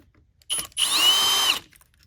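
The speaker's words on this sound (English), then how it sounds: "So the removal appears to be that you just remove these 2 screws." Power drill backing screws out of a Shark IonFlex vacuum nozzle: a short whir, a brief pause, then a steady high motor whine for under a second, close and alone.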